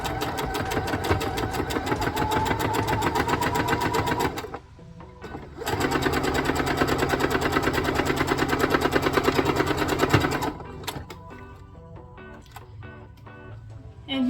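Sewing a scrappy potholder seam, a sewing machine hammers out fast rhythmic stitching in two close, loud bursts with a short pause between. Quieter handling clicks follow at the end.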